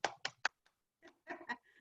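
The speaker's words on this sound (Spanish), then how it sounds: "Hay algunos que me aplauden" A few people clap sparsely at a talk about Rosario, several separate, distinct hand claps followed by a couple of quieter, scattered ones.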